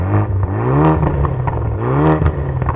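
A 10-year-old BMW with cut resonators and a new muffler revs hard, its exhaust rising and falling in two loud, close pulls with a raspy, crackling edge.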